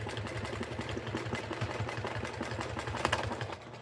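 A sewing machine runs steadily while quilting a table runner, a continuous close mechanical hum with a fast rhythmic stitching pulse and no talk.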